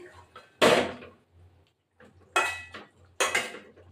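A cooking pot of rohu fish curry with drumsticks and potato is lifted off the stove, with three loud bursts of metal pot and lid clatter separated by short quiet gaps, close by and with no talk.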